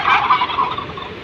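Turkeys gobble at a flour mill in Kotri, with a burst of loud, close, bubbling calls that trail off over about a second, with no talking.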